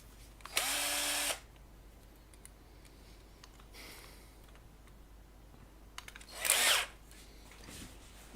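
A power drill bores out rivets in two short close bursts, the first high whine lasting under a second and the second briefly, with faint clicks and handling noises between them.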